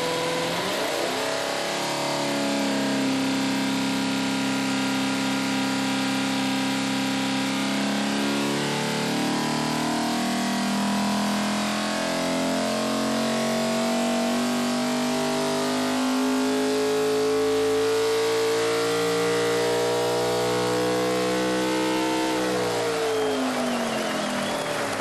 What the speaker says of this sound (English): give this thing full revs, pull power. I want to hear it scream.